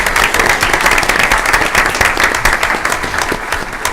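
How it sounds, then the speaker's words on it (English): An audience at a school board meeting breaks into sustained applause, a steady dense wash of clapping that stays loud throughout. "So I think that deserves a round of applause."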